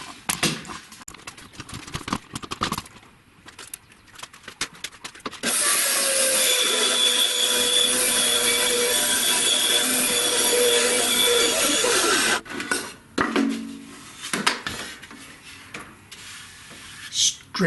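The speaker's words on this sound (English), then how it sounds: "I've got to go over and use my bandsaw and cut it freehand" A bandsaw cuts a taper freehand through a piece of wood, a steady, loud, even whine lasting about six seconds between stretches of quieter workshop handling noises and clatter.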